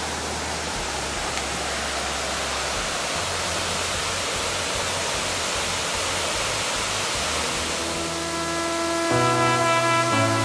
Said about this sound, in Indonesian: Ini air terjun tadi yang kita akan lihat, dan bentuknya itu mirip kayak Niagara gitu.